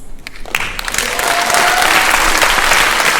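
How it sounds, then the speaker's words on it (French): An audience at an awards ceremony in the Limoges opera house breaks into loud, dense applause that swells within the first second and stays steady and full, with a faint tonal whistle or voice briefly audible inside it. "On peut les applaudir très fort"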